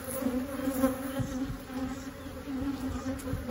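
Honey bees drone around an opened single brood chamber hive, a steady close buzz with individual bees passing near and away, and no talk over it.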